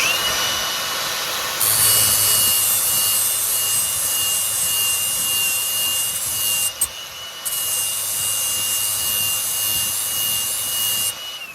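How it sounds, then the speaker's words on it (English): A Milwaukee angle grinder fitted with a flap disc sharpens hedge cutter blades, producing a loud, steady high whine and abrasive grinding with one brief dip partway through. "Trusty Milwaukee grinder with the flap disc on it"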